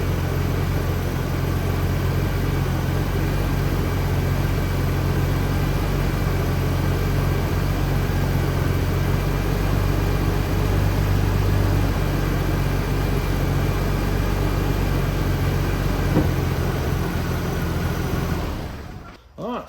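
A Jeep engine with a newly replaced cylinder head idles at a steady, even rumble, close and continuous for nearly twenty seconds before cutting off abruptly at the end.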